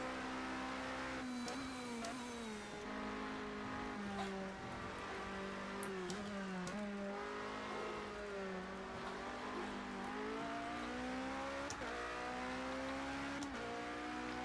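Toyota TS050 hybrid Le Mans prototype engine in Project CARS 2, a steady high-pitched racing whine rising and falling through gear changes and throttle lifts, loud and continuous with no talk.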